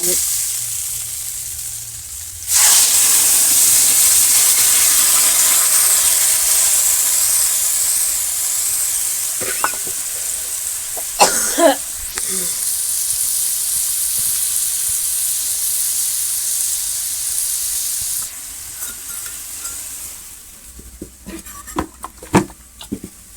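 Water poured onto spiced potatoes in a pan in a village kitchen bursts into a loud, steady sizzle and steam hiss that fades toward the end, with occasional stirring clinks.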